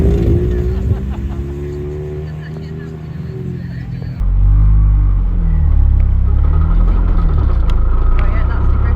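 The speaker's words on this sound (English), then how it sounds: "that's the grip of diff grinding" A race car on the Blyton Park circuit during a motorsport invitational, its differential grinding under a deep, steady drivetrain rumble heard from inside the car, loud and continuous with an abrupt shift partway through, and people talking over it.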